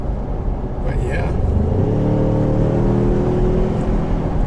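A 2020 Ford Ranger's engine pulls under acceleration while driving, a steady droning rumble whose pitch climbs, heard from inside the cab and continuous throughout.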